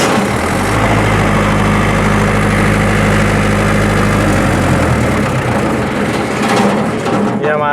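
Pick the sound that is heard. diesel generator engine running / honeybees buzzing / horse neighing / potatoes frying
diesel generator engine running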